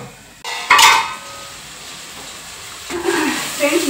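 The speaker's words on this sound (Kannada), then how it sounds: "ಇವಾಗ ಇದು ಚೆನ್ನಾಗಿ ಸ್ವಲ್ಪ ಫ್ರೈ ಆಗ್ತಾ ಇದೆ" Tomatoes with sambar powder and chilli powder fry in a pan, with a loud metallic clatter of a spoon against the pan, then a steady, hissing sizzle and more scraping near the end.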